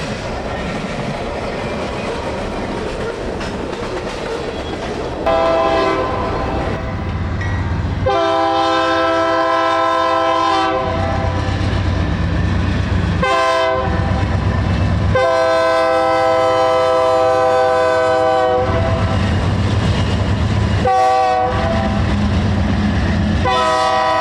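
A freight train rumbles loudly past on the rails, with several long, blaring horn blasts broken by short gaps over a steady heavy roll of the cars.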